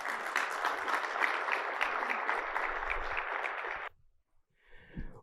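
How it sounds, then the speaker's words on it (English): Audience applause for a performer about to sing the Star Spangled Banner at a mortgage business event: steady clapping for almost four seconds, then it stops abruptly, followed by a brief low thump and faint noise. "A round of applause for him, please."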